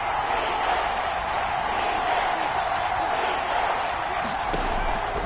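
Dense, steady roar of a Seattle Seahawks home stadium crowd in an American football video game, sustained without break during a red zone third down, loud and continuous with a broad wash of indistinct voices.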